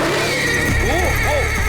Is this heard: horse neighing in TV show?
yes